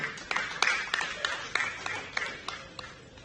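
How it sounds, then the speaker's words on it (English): At a project launch event, a small audience claps for welcomed guests, around a dozen scattered claps in a loose, uneven rhythm, moderately close and not very loud. "Is that applause for them?"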